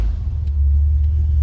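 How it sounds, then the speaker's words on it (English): A 1957 Chevrolet Bel Air four-door sedan with a 283 V8 and three-speed manual runs on a cold start, giving a loud, steady, deep engine rumble with no voices. "We're gonna fire it up. Let's hear it run."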